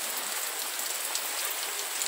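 Rain falling on a small porched house in the rural sertão of Ceará, Brazil, a steady dense hiss of drops on the surface throughout, with no voices.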